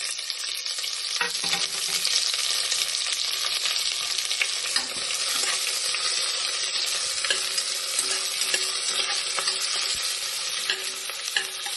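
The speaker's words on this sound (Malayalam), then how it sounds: "ഇനി നമ്മൾ ഈ ബീഫ് കറി വയ്ക്കാനായിട്ടുള്ള സവാള ഇട്ട് കൊടുക്കാം" Sliced onions sizzle steadily in hot oil in a pan for a Kerala-style beef biryani curry, a loud continuous fry close up with occasional stirring scrapes and no voices.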